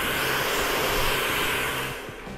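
A hair dryer blows on a beard, a loud, steady whooshing roar of fan and airflow that shifts slightly in tone toward the end as the angle changes.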